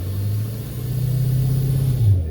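A Duramax LMM diesel pickup in reduced engine power mode drones at a flat, steady pitch under full throttle, failing to rev up, with a brief lift near the end.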